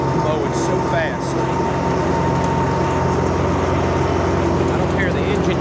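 Lawn mower engine droning steadily while cutting thick bahia pasture grass, a constant close hum with no change in pitch.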